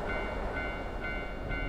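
A train rumbles past close by in the horror video game Shin Tsugunohi, a steady low, dense roar that holds evenly throughout with no voices over it.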